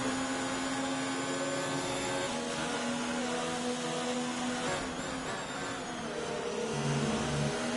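A Ferrari race car engine in a racing game, British GP track, drones steadily with a sustained high whine and slight pitch shifts through gear changes, continuous and moderately loud with no talk.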